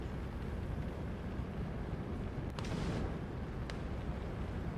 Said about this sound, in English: my flamethrower's doing some really good work. And now I'm trying to torch the tank.